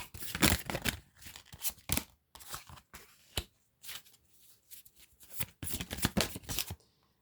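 Tarot cards are shuffled and drawn by hand in close, crisp riffling and flicking bursts, with short pauses between them and no talking.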